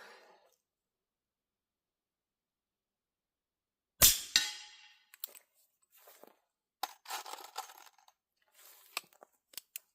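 A Thompson Contender .357 Magnum single-shot pistol fires one loud, sharp crack after a stretch of silence, followed by a quick decay and scattered light metallic clicks and handling sounds.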